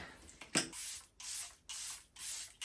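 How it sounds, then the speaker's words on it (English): Several short hissing sprays of a makeup setting spray mist bottle, the first sharp and brief, followed by three longer bursts in a steady rhythm, close and clear. "Oh, setting spray."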